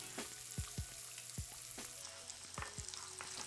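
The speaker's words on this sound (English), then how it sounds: "So crack 2 eggs on top of the oil and just really cook that through." Two eggs frying in hot oil in a pan for Pad Thai, with a steady close sizzle and a few scraping spatula strokes.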